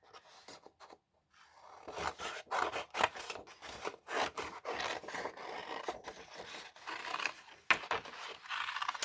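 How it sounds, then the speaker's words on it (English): Scissors snipping through paper to cut out a doll head from a vintage sewing pattern, a close, irregular run of quick crisp cuts and rustles after a brief pause at the start. "I'm going to cut this one out here."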